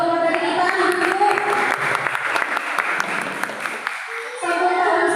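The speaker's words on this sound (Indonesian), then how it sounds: "kita beri tepuk tangan sekali lagi untuk kedua pemateri kita" An audience at a stunting-prevention talk gives a round of applause for two presenters, steady clapping from a roomful of people for several seconds, with a voice over a sound system speaking over it before and after.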